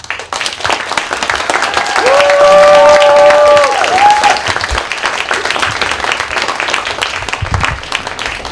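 A room of event attendees at a community gathering in Luton breaks into sustained applause mixed with crowd noise and a few cheers, swelling loud in the middle before settling into steady clapping to the end.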